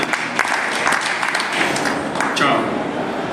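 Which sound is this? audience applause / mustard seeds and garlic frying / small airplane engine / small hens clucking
audience applause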